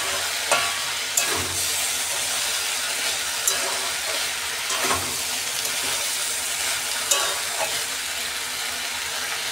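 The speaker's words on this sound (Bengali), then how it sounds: "ঢাকনাটা খুলে আমি সবজিগুলো একটু নেড়ে নেড়ে দিচ্ছি" Radish and capsicum vegetable curry sizzles in a pan while a spatula stirs it, with sharp scraping clicks recurring every second or two over the steady frying hiss.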